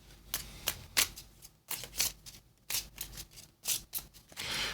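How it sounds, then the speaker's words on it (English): A deck of trading cards for a Marvel comic card game is riffled and shuffled by hand in quick papery bursts that come in several rapid flurries, close and fairly quiet, with no talking. "Let's give it a little shuffle."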